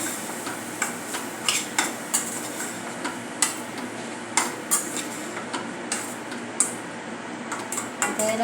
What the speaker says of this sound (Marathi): जिरे पावडर हे ड्राय मसाले घालून घेऊया मिक्स करूया